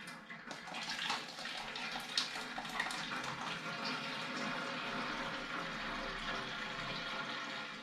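Homemade apple cordial made from windfall apples pours in a steady, faint trickling stream, splashing continuously into a container for several seconds.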